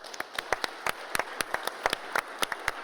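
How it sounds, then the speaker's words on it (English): Sparse applause for a panel discussion, a handful of separate hand claps at an uneven rhythm, crisp and fairly close, rather than a full crowd ovation. "big applause for the panel."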